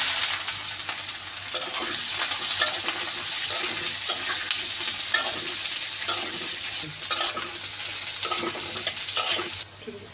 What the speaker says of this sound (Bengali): তেল কিছুটা গরম হয়ে এলে আমরা পেঁয়াজ এবং রসুন কুচি দিয়ে দেব।